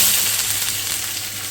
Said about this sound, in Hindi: पहले हम डालेंगे प्याज